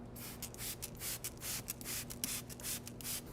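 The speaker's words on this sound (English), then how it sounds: "Now the way to use it is to simply pretty much spray directly onto the surface." Chemical Guys cleaner is sprayed onto car seat upholstery from a trigger bottle, a quick series of about a dozen short hissing bursts in a steady rhythm, close and clear with no talking.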